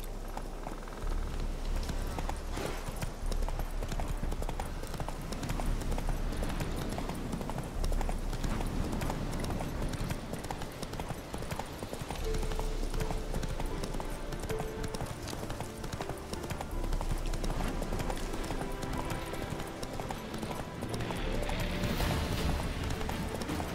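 Horse hooves clip-clopping in The Witcher 3, a steady, continuous run of hoofbeats, loud and close, going on throughout without talk.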